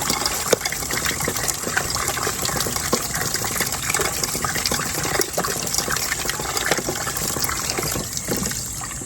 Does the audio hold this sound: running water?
yes